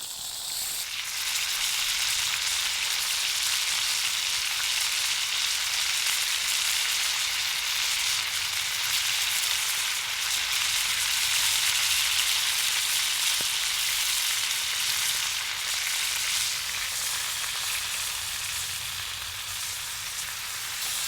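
Steak searing over a campfire, its fat edge rendering in the heat, gives a steady, close sizzle and hiss that runs unbroken and fairly loud the whole way through, with no voices.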